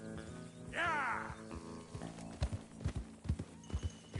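In Red Dead Redemption II, a horse whinnies near the start, then hooves clip-clop in a series of irregular, close thuds. A low ambient hum sits underneath.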